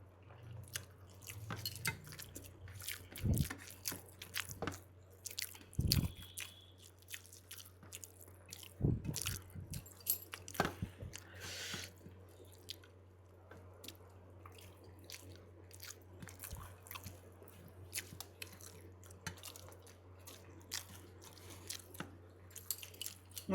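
Mouth sounds of someone eating rice mashed with shrimp, onion and garlic, with repeated soft bites and wet chewing at close range over a steady low hum.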